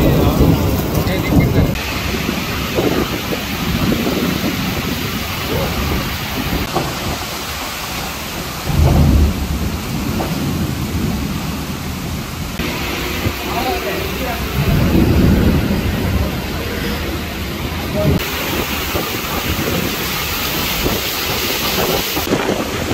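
Thunderstorm with heavy, steady rain and gusty wind, broken by deep rolling thunder rumbles near 9 and 15 seconds, with faint voices heard now and then beneath the downpour.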